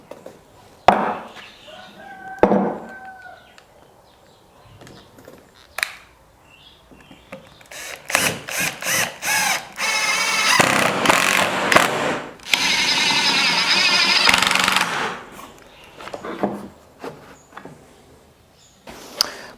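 A wood router cuts along a marked line on an offcut of wood, its loud whining bursts coming in several passes of a few seconds each, separated by short pauses and knocks of handling.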